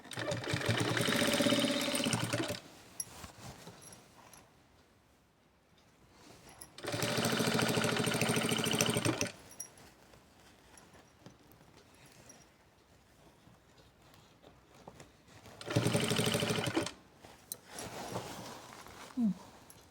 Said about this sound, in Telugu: ఇలా లోపలికి ఫోల్డింగ్ చేసుకొని ఇలా స్టిచ్ అనేది వేసుకోవాలి.